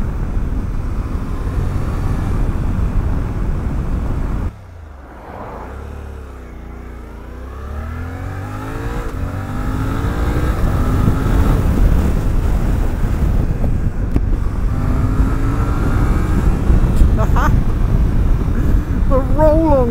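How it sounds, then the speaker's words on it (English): A 2023 Suzuki V-Strom 800DE engine drops off, then climbs through rising revs as the rider rolls on the throttle, heard up close beneath heavy wind rush and a voice talking. "The roll-on grunt this thing has got is nuts."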